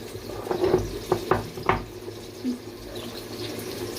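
Tap water runs into a kitchen sink to soak rice, a close splashing flow with a few brief clattering knocks near the start, then a softer continuing trickle.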